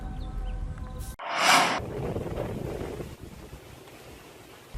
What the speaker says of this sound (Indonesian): Angin kencang dan gelombang tinggi di perairan Selat Lombok